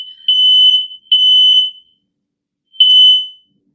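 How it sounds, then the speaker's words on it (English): A fire alarm sounding in three loud, piercing electronic beeps of about half a second each, separated by short gaps, with silence after, no talk. "Somebody's fire alarm."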